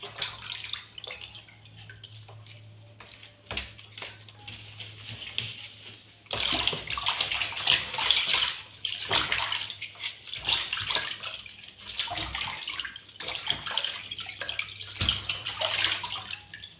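Soursop leaves washed by hand in salted water, with irregular splashing and sloshing that picks up midway and continues in uneven bursts, close and fairly quiet.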